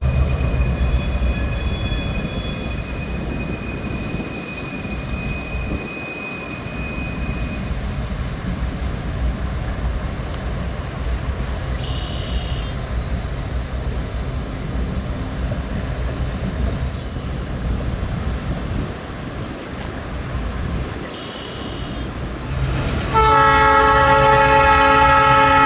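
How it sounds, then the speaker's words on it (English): BNLE SD38 locomotives running as light power at a junction, a steady rumbling diesel drone with passing rail noise, ending in a loud, sustained multi-tone horn blast close by. "came out of the yard again as light power."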